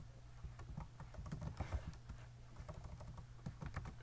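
Computer keyboard typing, a quick irregular run of soft clicks and taps at close range, steady throughout with no voices.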